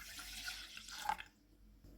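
Milk poured into a pan for a pudding gives a soft, close liquid splash and gurgle that peaks around the middle and then stops abruptly, leaving quiet room tone with no voice.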